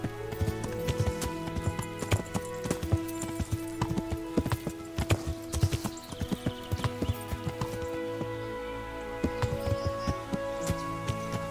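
Horse hooves in Kingdom Come Deliverance, a steady, rhythmic clip-clop of a ridden horse, crisp and close, continuing throughout over a soft game ambience.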